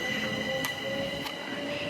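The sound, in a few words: Class 377 train approaching at Fishersgate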